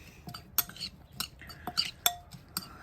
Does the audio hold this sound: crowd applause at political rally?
no